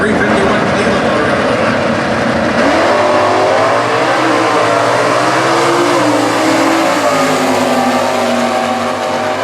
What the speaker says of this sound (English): Sports Roof Mustang on the National Dragster side. 351 Cleveland motor.